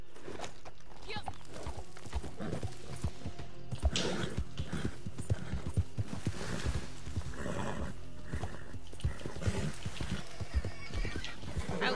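A horse in Red Dead Redemption 2 clip-clops along at a steady gait and lets out a whinny, with a player's voice talking over the hoofbeats throughout.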